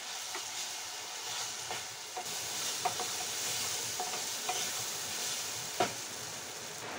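Soaked joha rice is fried and stirred in a pan while cooking murighonto. A steady, soft sizzle runs throughout, broken by a few sharp clicks and scrapes of the stirring spoon, with no talking.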